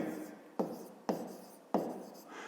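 Pen writing down a calculation on paper, with soft close scratching and four distinct taps or strokes spaced roughly half a second apart, quiet and alone.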